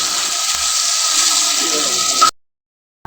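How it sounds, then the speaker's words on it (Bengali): Broth poured into a fish curry in a cooking pot makes a steady, fairly loud liquid rush for about two seconds, then cuts off abruptly into silence. "এই যে মাছের তরকারির মধ্যে ঝোল দিয়ে দিছি"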